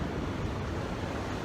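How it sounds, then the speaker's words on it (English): Ocean surf crashing on a beach, a steady, dense roar of breaking waves close by with no pauses, a little wind rumble mixed in, and no voices. "the sound of the waves just crashing around me,"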